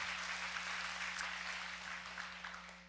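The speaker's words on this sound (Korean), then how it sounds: "우리 방송팀한테 한번 감사의 박수 좀 드립시다." A church audience applauds the broadcast team in a steady, dense clapping that fades slightly toward the end.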